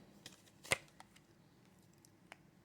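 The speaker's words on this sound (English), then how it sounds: "we're just going to keep giving it a little shuffle, and then we're going to cut the deck" Tarot deck being shuffled and cut by hand, a few soft papery flicks and taps with one sharper snap of cards near the start, quiet and sparse in a hushed room.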